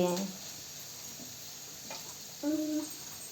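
Potatoes frying in a pan for a home-cooked potato poriyal, giving a soft, steady sizzle under brief bits of nearby talk.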